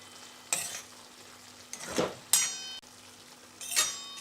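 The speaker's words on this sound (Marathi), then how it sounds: "पुन्हा आपण ही भाजी थोडीशी एकसारखी करून घ्यायची" Dried chickpea-leaf greens with crushed peanuts are stirred in a pan, with four scraping strokes of a spoon against the metal over a soft background sizzle, close and fairly quiet without speech.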